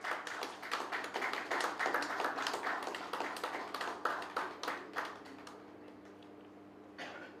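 Applause from an audience at a technology and security panel event, steady broadband clapping with sharp individual claps that thins out and fades by the end.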